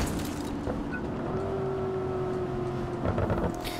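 A car engine in the Just Cause 3 video game hums and drones steadily at moderate loudness, rising slightly toward the end, with tire and road noise over a constant rumbling background.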